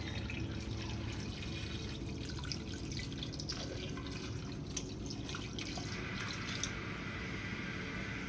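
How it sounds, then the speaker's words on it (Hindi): About 750 ml of water pours steadily into a cooking pot holding beef for yakhni pulao, a continuous close splashing rush with faint clinks, no voices. "तकरीबन मैंने ये 750 ml पानी ली है, वो डालना शुरू करेंगे।"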